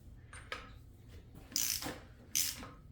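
Socket wrench ratcheting to draw the balancer pulley onto the crank of a C5 Corvette LS6 engine, a few sharp close clicks and ratchet bursts with quiet gaps between.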